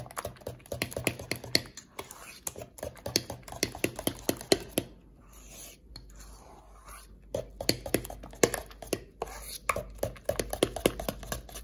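Achappam batter being mixed with salt by hand, a run of quick, irregular close-up taps and scrapes with a short quieter stretch midway, no talking.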